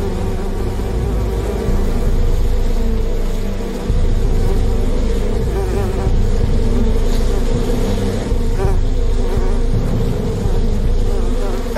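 A swarm of more than 200,000 bees drones steadily on a hive, a loud, dense buzz with no talk, set in a stunt challenge where people get covered with bees.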